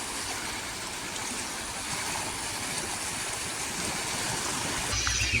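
Flooded Beas River near Kishanpur in Kahnuwan block, Gurdaspur, rushing past the bank in the evening, a constant dense roar of fast water that holds steady and fairly loud throughout.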